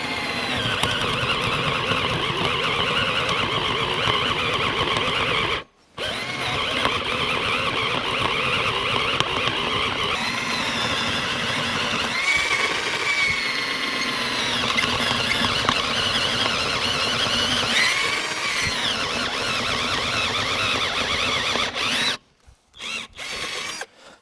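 A cheap cordless drill whines continuously at high speed, with shifting pitch as it bores into material. There are two brief pauses and no voices.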